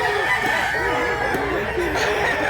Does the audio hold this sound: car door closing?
no